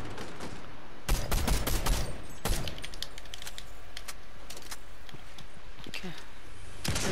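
Fortnite gunfire comes in a few sharp, loud bursts of rapid shots, separated by quieter stretches with scattered clicks and distant pops, and voices talking over the gameplay.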